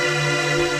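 A ZynAddSubFX software synthesizer holds a steady, rich sustained tone with dense harmonics and no distortion, even and unbroken for under a second.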